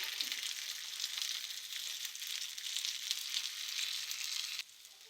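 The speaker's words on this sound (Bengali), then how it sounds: "আমি বেগুনগুলো এই পাশ ও পাশ ভালোভাবে উল্টিয়ে ভেজে নিয়েছি।" Eggplant slices fry in hot oil in a pan, giving a loud, steady, bright sizzle that runs without a break before dropping suddenly to a softer hiss near the end.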